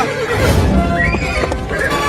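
A horse whinnies loudly and close in a comedy cartoon scene by a river, a long rising and falling neigh over steady background noise, with faint hoof clip-clop underneath.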